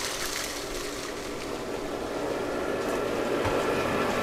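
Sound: swimming pool pump running under a waterfall

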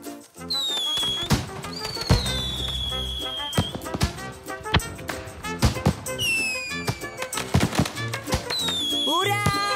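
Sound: fireworks in a cartoon

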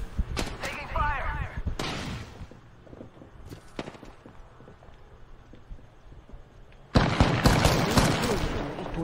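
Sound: gunfire in the video game Apex Legends

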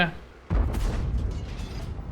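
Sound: tank gun shot in video game (K-91 tank)

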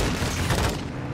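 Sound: light machine gun fire in video game Call of Duty Modern Warfare II

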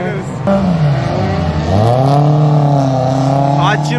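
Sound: cars drifting nearby

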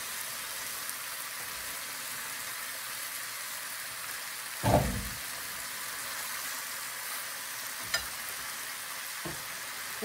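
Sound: stir-frying Chinese cabbage in a pan

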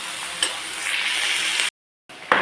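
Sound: onions frying in a pan until brown

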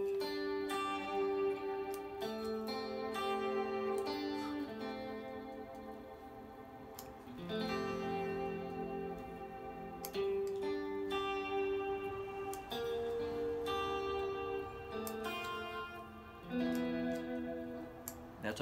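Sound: Albert Lee model electric guitar playing with shimmer effect

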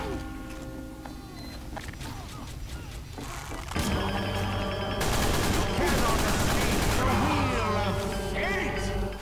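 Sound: sniper gunfire in a video game

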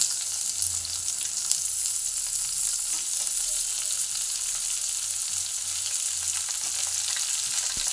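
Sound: chopped onion frying with garlic

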